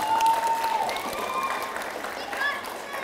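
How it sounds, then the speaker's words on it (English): An audience at a public library magic show applauds as a volunteer comes up to the stage, a moderate wash of clapping with a sustained tone and voices mixed in. "Give her a round of applause as she makes her way to the stage."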